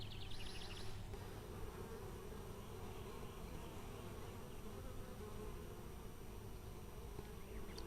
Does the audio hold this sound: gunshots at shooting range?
no